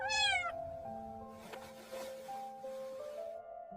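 A little cat meows once, high and close, then fainter mewing and soft rustling follow in a quiet indoor scene.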